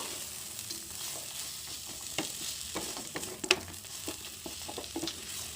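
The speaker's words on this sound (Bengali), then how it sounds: "মাছগুলোর সাথে মশলাটা একটু ভালো করে মাখিয়ে নেব" Fried prawns tossed with spice paste in a hot pan give off a steady sizzle, with scattered scraping and clinking of the spoon close by. Nobody speaks.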